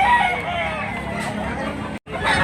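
A rooster crows loudly and close by at a live fowl sale, with market chatter and background voices underneath and a brief cut near the end.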